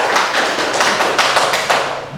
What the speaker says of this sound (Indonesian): Ya, betul sekali, tepuk tangan buat Mas Nasdan